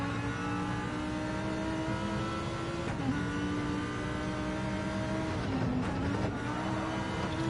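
A BMW M6 race car engine in Gran Turismo 7, lapping Laguna Seca in an IMSA GTD race, drones steadily at high revs with small pitch dips as it shifts, loud and continuous with no talk over it.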